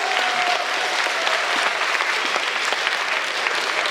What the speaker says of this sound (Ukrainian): Аплодуємо Роксолану, вона хвилюється